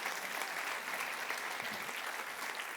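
An audience at a spoken talk breaks into steady applause, a dense, even patter of many hands lasting throughout.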